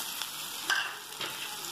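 Onion and tomato masala with turmeric, salt and spice powder stirred in a hot pan for lady finger curry, a steady sizzle with a few soft spoon scrapes.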